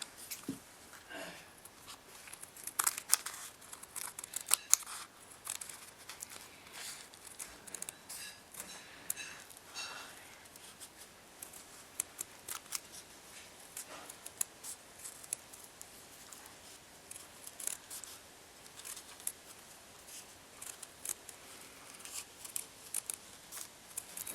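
Scissors cut carefully around embroidered fabric as a beginner's embroidery project is trimmed, producing a quiet, close run of irregular snips and crisp clicks that continues throughout without voices.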